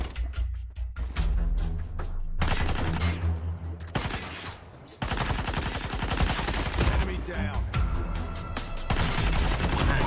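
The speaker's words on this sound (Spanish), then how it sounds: "Se escuchan múltiples disparos por aquí." Gunfire in the mobile shooter game Call of Duty Mobile: loud, rapid bursts of automatic fire and overlapping shots continue almost without pause, broken only by a couple of short lulls.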